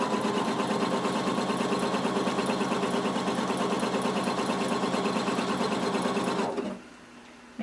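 A sewing machine bastes swimsuit fabric together with a long or zigzag stitch, running in a fast, even, continuous mechanical chatter up close for over six seconds before stopping abruptly into quiet.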